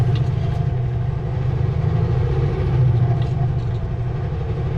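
A vehicle engine pulls in first gear with the transfer case in low range on a drive near Adams Lake, British Columbia, making a steady, loud, close mid-pitched rumble that holds even throughout.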